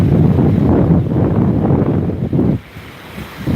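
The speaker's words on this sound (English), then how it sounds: "Man, this wind is blowing." Strong gusty wind buffeting the microphone at a quiet waterside park with pine trees, a loud continuous roar that cuts out abruptly near the end.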